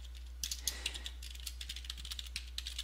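Quick, light clicks of fingers typing a link address on a computer keyboard, a soft uneven patter of keystrokes over a steady low hum.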